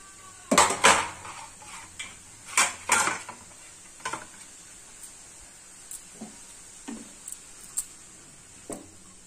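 Utensil clatter and scraping in a pan as curry leaves and coriander are stirred into frying pongal batter, a few loud clanks early, then lighter, scattered taps and scrapes fading toward the end.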